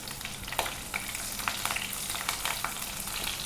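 Crushed garlic and chopped green chillies fry in hot oil, giving a continuous close sizzle dotted with sharp little pops and crackles at irregular intervals.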